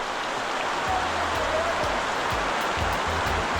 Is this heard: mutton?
no